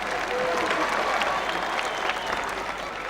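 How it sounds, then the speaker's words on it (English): A crowd at the 1993 World's Strongest Man competition applauds a competitor's effort, sustained dense clapping that stays loud and even throughout, with faint crowd noise beneath. "but the crowd appreciating a brave effort"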